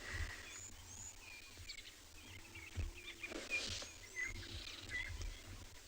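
Faint, distant birds, including white-crested helmet shrikes, chirp and whistle intermittently over a low, steady outdoor rumble on a sunrise safari.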